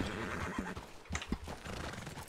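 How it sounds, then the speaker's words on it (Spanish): A horse whinnies loudly while hooves clop in a quick rhythm in the video game Project 1920, with game-like ambience around them and no talking. "mi caballo decidió seguir para adelante"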